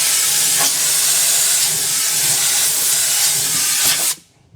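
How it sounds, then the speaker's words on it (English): An air blowgun blasts debris out of a tire in one loud, steady hiss of compressed air lasting about four seconds before cutting off abruptly. "Blowgun and tire machine, or blowgun."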